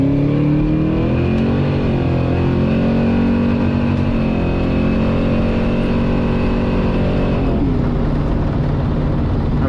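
A drag racing car's engine roars loudly and continuously from inside the cabin, climbing in pitch as it pulls through the revs and turning rough and choppy near the top as it breaks up around the limiter.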